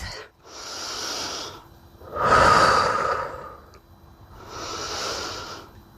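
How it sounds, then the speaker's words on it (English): Slow, deep yoga breathing during a mobility session: long airy inhales and exhales in a steady cycle, close and clear, with no talking. "Breathe in deeply, exhale fully."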